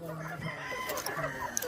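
Chickens cluck and a rooster crows close by in a farmyard, a dense overlapping flock chorus filling a short burst.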